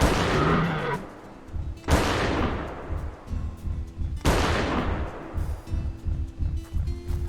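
Gunfire in the video game Prehistoric Hunt aimed at a pteranodon: three loud, sharp shots spaced a second or two apart, each with a long rolling echo, followed by quieter thumps and rustling.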